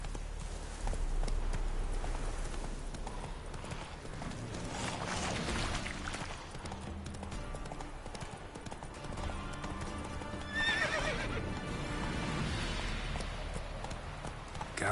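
Roach, the horse in The Witcher 3 video game, gallops with rapid rhythmic hoofbeats that carry through the whole stretch, a whinny rising partway through, moderately loud under game ambience.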